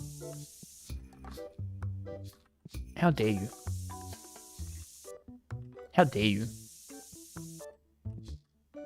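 A spray can hisses in short bursts in the TCG Card Shop Simulator video game, while someone talks loudly over it.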